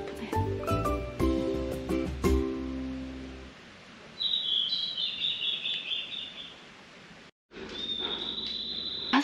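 Birds chirp on a mountain trail on Gubongsan in Jinan, North Jeolla, high thin calls heard after a burst of louder clattering sounds, moderately close in the open air.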